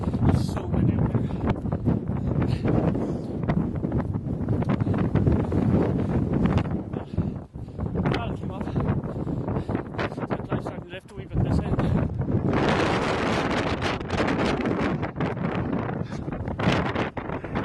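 Strong wind gusts across a hilltop overlooking San Francisco near the Golden Gate, roaring loudly and constantly into the microphone as heavy buffeting, with speech-like voices partly buried beneath.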